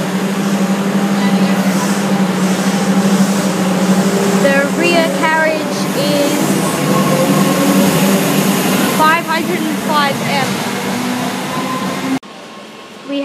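A Melbourne metro Sandringham service eases slowly into Platform 2 at Melbourne Central, a loud sustained motor hum and rumble with bursts of squealing brakes or wheels, echoing in the underground station before cutting off abruptly.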